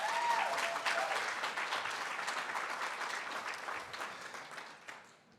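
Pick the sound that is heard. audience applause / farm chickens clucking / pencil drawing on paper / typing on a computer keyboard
audience applause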